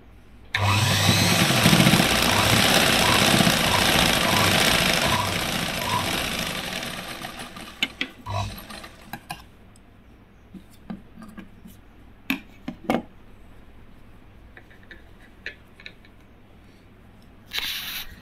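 A sewing machine stitches a blouse strip for a katori blouse, running loud and close for several seconds, then stopping and leaving scattered clicks and handling knocks in a quiet room.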